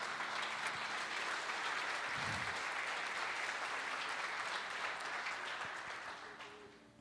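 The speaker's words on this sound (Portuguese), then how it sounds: "Dê um aplauso à palavra de Deus" A church congregation applauds during a sermon, a continuous, fairly distant wash of many people clapping that holds steady and then fades away at the end.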